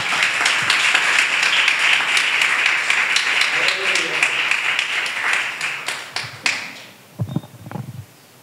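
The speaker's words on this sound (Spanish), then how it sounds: "Bríndale fuerte el aplauso al Señor." A church congregation claps together during a Spanish-language service, a dense, loud, rhythmic burst that fades after several seconds into quieter taps and faint room noise.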